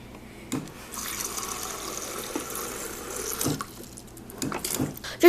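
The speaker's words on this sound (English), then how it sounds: "Just gotta fill up my cup." Water runs steadily into a cup in Super Mario Maker, a continuous filling hiss lasting a few seconds before it cuts off, with brief thumps around it and no speech.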